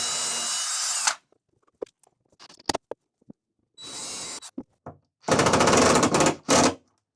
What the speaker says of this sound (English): So let's get these pilot holes drilled, the screws in there, and then these rails will be installed.